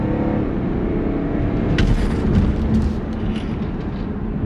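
Chiptuned car with about 155,000 km on it accelerating hard in a 0-100 run, a loud sustained engine roar rising in pitch with a brief shift-like break midway, heard from inside without talk.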